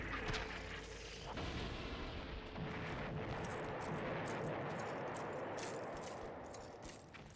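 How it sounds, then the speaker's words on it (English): Fireworks go off in the distance, a run of deep rumbling booms and crackling bursts rolling together over several seconds, fairly faint with no voices. "Fireworks and stuff going off."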